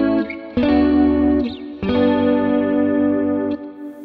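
An electric guitar with a chorus effect strums two ringing three-note triad chords, each sustaining for well over a second, close and loud with a shimmering wash and no voices.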